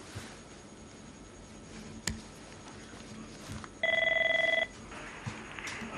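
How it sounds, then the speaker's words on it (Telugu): An incoming call from Muscat announced by a telephone ringing on a live phone-in broadcast, one steady electronic ring burst of about a second standing out clearly over faint studio room tone. "మనోహర్ గారు మీరు మస్కట్ నుంచి ఫోన్ చేస్తున్నారండి?"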